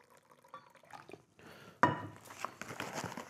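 Boiling water poured into a freeze-dried food pouch, starting as a faint trickle and swelling into a louder, splashy pour near the end, with no talking.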